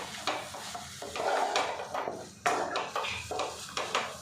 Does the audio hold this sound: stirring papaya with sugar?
yes